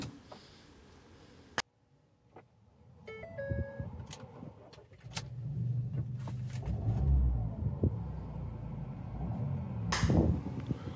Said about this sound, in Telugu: సింగిల్ సెల్ఫ్లో కార్ స్టార్ట్ అవుతుంది